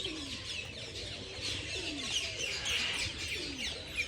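Pigeons cooing and small birds chirping in a park in Islamabad, a steady layer of bright tweets over low coos, with a few slurred calls repeating at intervals, moderately near and continuous.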